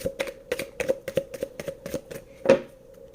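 Tarot cards shuffled and drawn from the deck in a quick run of crisp, papery slaps and riffles, about a dozen close strokes with one louder snap near the end, no voices.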